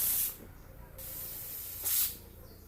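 A pressure cooker cooking mutton vents steam in two sharp, loud hissing bursts with a quieter steady hiss between them, heard close up in a kitchen.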